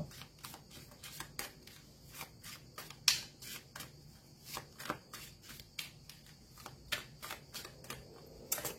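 Tarot cards are shuffled by hand for a reading, producing a steady run of soft, crisp flicks and riffles repeating roughly every half second, close and quiet, with no talking.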